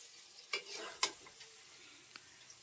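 Thick spiced masala for a potato curry is stirred in a pan, a faint soft sizzle broken by a few sharp spoon scrapes and clicks against the metal.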